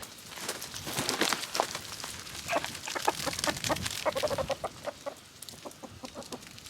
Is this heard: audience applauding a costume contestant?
no